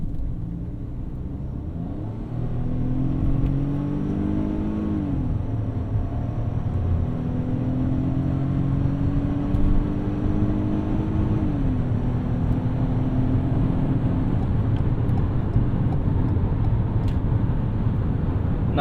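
2021 Ford Bronco Sport Big Bend with a 3-cylinder engine accelerating up a highway on-ramp, a steady loud cabin rumble with engine pitch climbing through the gears and dropping at each shift, heard from inside the car.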